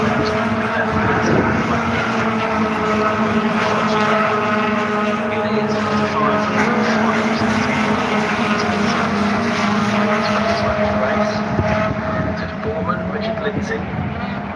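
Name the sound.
Honda Type R race cars crossing the line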